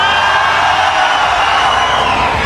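A large live audience shouts loudly at a fan event with Brazilian GTA 5 actors, a dense sustained roar of voices filling the room for the whole stretch.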